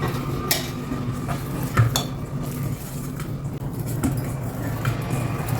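Soft mango bobbatlu dough worked with oil in a bowl, producing low, steady squishing and dull knocks with a few sharper taps, close and moderately loud.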